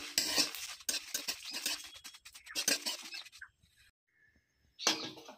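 Whole spices, white cumin, cloves and white peppercorns dry-roasted and stirred in a dry wok, scraping and rattling in bursts with a short quiet pause before the stirring resumes, close and without talk.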